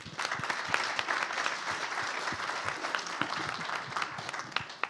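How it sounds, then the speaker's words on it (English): Sustained applause from an audience at a startup demo day, honoring scale-up pitch teams: a dense, continuous crackle of many hands clapping, fairly close and steady from start to finish. "So a big round of applause again for all of you."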